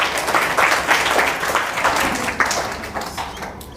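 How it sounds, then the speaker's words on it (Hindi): Applause from a class of students rewarding a pupil during a maths lesson, a steady patter of many hands clapping close by, fading slightly toward the end. "बजाओ ताली"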